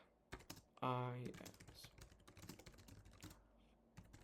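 Fingers tap steadily on a computer keyboard nearby, a soft run of quick clicks, with a short spoken sound near the start.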